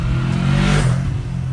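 A Yamaha R3 motorcycle rides past, its engine giving a loud, close rising and falling roar as it sweeps by, with no talk over it.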